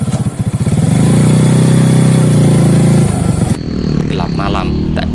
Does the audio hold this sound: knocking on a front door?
no